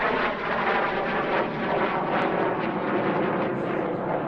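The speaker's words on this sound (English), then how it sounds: "This light combat aircraft, developed in the UK for the export market" A light combat jet built in the UK for export roars past at an air show, a loud continuous engine rumble that stays strong throughout with no talk over it.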